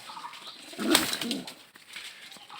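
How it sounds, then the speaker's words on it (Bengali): Pigeons at a pigeon farm, giving a soft close coo and a brief flutter over low background noise, without talk. "দেখেন কি সুন্দর কবুতরটা"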